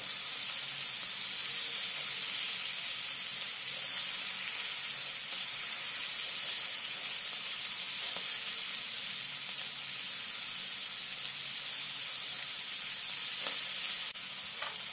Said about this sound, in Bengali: এবার চিংড়ি মাছগুলোকে উল্টে পাল্টে হালকা করে ভেজে নেব